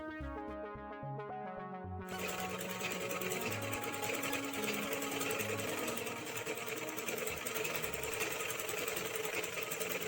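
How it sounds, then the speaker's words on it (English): A sewing machine stitching along marked side lines of an old shirt being turned into a top, a fast, steady mechanical whir that continues without a break after music fades out. "Now we stitch along these lines."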